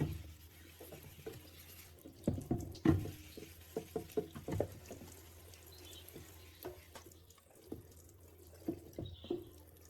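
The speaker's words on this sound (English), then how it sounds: "After cleaning both the cutting board and the pot, I rinse them thoroughly with water." Tap water runs in a kitchen sink while a cutting board and pot are rinsed, with irregular splashes, clinks and drips over a steady low flow, close by.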